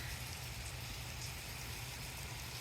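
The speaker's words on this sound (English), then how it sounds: "Okay, the rain is here." Rain falls as a steady wash of hiss with a low rumble underneath, fairly even and without speech.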